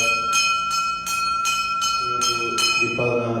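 A small temple bell rings in quick repeated strikes, about seven clear metallic rings with a sustained tone, during a bhajan kirtan at a Shiva Mandir in New York for Janmashtami, with voices and music rising underneath.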